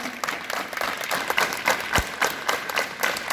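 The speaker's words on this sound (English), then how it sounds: "Clap together." Students clapping together in rhythm during a school morning assembly exercise: a steady run of group claps, fairly loud and close, with one sharp low thump midway and no talking.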